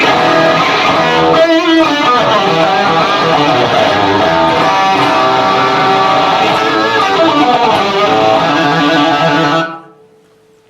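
A loud, saturated electric guitar through a Marshall 1987X 50-watt tube amp head at volume 2 plays continuously with a gritty, driven tone for about nine seconds, then cuts off into silence.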